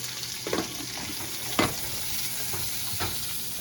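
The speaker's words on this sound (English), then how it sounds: "And I'll put my potatoes in there and get to cooking them." Potatoes and onions frying in a pan for a vegan breakfast give off a steady close sizzle, with a few soft scrapes of stirring and no talking.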